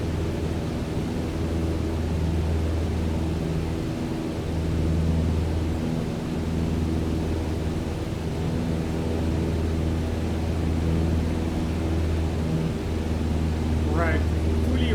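Steady, droning hum of a propeller aircraft engine in Microsoft Flight Simulator 2020, heard from the cockpit with throttle and mixture being adjusted; continuous and even with a slight rise in pitch near the end, a voice speaking over it.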